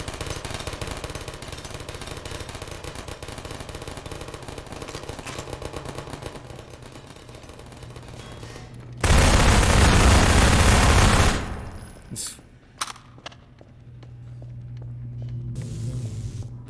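Continuous rapid gunfire from the Half-Life 2 video game, a loud dense burst of automatic shots for a few seconds amid steady game noise, followed by scattered sharper reports and quieter background.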